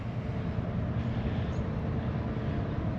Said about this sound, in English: that's the pilot boat about to head out to bring a ship in